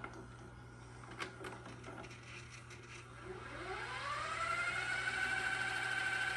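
A Panasonic PV-V4603 VHS VCR mechanism revs up during playback, a faint motor whine rising steadily in pitch and settling into a sustained tone, with light clicks early on.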